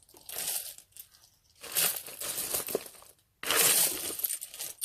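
Vintage glass buttons, including green glass with a gold finish, are sifted and handled, giving close rattling, clinking and crinkling bursts separated by short pauses.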